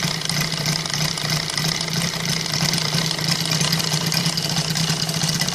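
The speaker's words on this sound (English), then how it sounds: "The engine is running right now on a 2-to-1 gasoline." An OS Sirius five-cylinder radial model engine with a collector ring and Xoar 2410 propeller idles on 2-to-1 gasoline, a steady close droning hum with a faint uneven knock throughout.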